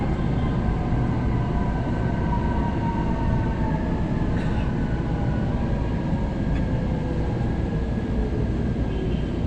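A train rumbles steadily along the tracks near Santolan station, broad low roar with faint high squeals and a couple of brief metallic clicks, no voices.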